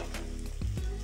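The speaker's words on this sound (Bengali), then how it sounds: "চালটাকে আমি মশলার সঙ্গে ভাজা করে নেব।" Washed Gobindobhog rice fries with spices in a pan for muri ghonto, giving a brief soft sizzle close by with a couple of low thumps from stirring.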